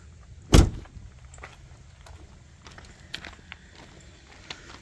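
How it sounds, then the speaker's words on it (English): A 2007-14 GM truck's hood latch pops open with a single sharp, close knock released from the lever under the dash, followed by quiet background with a few faint clicks and taps. "to pop the hood."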